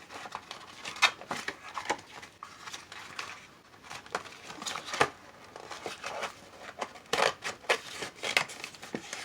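Scissors cutting paper for a spring junk journal, a string of sharp close snips in irregular bursts, some quick and clustered, with quiet pauses between and no talk.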